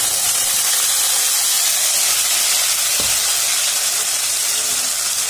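Chili and coriander-leaf paste hits hot oil with fried cumin seeds in a pan for desi aloo dum, giving a loud, steady sizzle and hiss throughout, with one brief low thump partway through.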